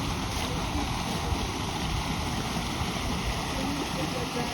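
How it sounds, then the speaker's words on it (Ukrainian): Waterfall on a river at Buckingham waterfall, heard up close as a continuous, even rushing roar of falling water that fills the whole clip. "Він побачив ще один водоспад."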